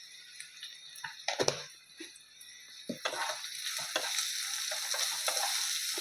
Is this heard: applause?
no